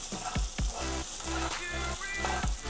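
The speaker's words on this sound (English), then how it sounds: "So all of our seasoning, the dry seasoning, get a little bit roasted." Onion and dry spices roasting in a pan, crackling and sizzling up close with regular stirring scrapes punctuating the steady fry.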